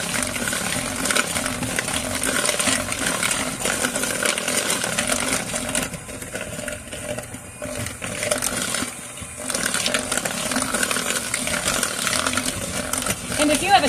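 A KitchenAid handheld mixer whirs steadily as it beats eggs into batter, a continuous buzzing drone heard close up with a voice talking over it.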